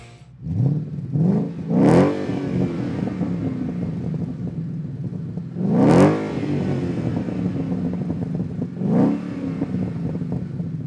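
A Ford Mustang GT V8 with a MagnaFlow Street cat-back exhaust revs hard three times, each burst rising and falling back to a deep, rumbling idle between them.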